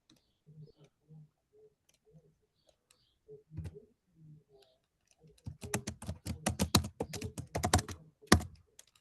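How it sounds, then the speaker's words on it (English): Computer keyboard typing heard through an online board meeting call, a quick burst of faint clicking keys after some soft murmuring, with voices talking nearby. "We hear typing now."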